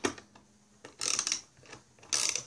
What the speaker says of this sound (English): these ratchet wrenches are nice